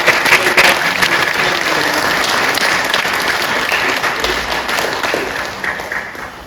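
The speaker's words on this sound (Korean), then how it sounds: "우리 부활하신 주님께 영광의 박수를 다시 한번 올리겠습니다" A church congregation applauds on Easter Sunday at a Korean church service, a steady, dense wash of clapping that holds evenly throughout before easing slightly at the end.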